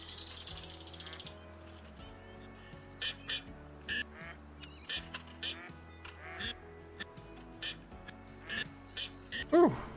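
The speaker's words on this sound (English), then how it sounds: "We barely got loaded in time to a bunch of ducks landing here." A flock of ducks quacking while landing in the hunting game Call of the Wild, repeated nasal calls scattered across the scene at moderate distance over outdoor ambience, with someone talking quietly at times.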